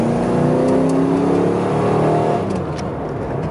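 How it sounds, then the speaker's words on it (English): Engine of a classic one-owner Cadillac revs hard and then shifts gear, a loud, smooth roar that climbs in pitch and drops back slightly as it changes, heard alone without speech. "There's your upshift, your downshift, the whole shift, and nothing but the shift."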